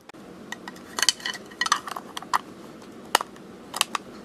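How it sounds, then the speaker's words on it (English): The lid of a 1959 Emery Six transistor radio made in Japan, with a Plascon plastic case, is forced back on: a string of sharp plastic clicks and clacks, close and distinct, with louder snaps among them. "It's hard to even put this lid back on without really forcing it."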